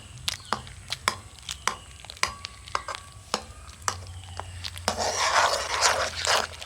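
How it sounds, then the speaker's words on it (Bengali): Boiled mango pieces pressed and churned in their cooking water with a wooden dal masher in a kadai, giving repeated close knocks and wet squelches, then a denser stretch of sloshing stirring near the end. "একটা ডাল ঘাঁটনি নিয়েছি, এইভাবে চেপে চেপে দেবো, দিয়ে আমটাকে একেবারে জলের সাথে এইভাবে ঘেঁটে নেব।"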